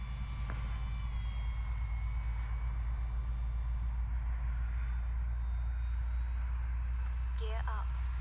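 A Dynam BF 109 radio-controlled model plane flies low during landing drills, its electric motor whining at a steady pitch against a constant outdoor rumble, with a brief chirping sound near the end.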